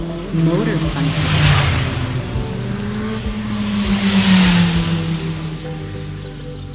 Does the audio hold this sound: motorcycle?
yes